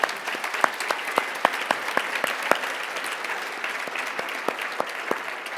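Steady audience applause with many hands clapping at once, sharp individual claps standing out in the dense patter, sustained throughout at moderate volume.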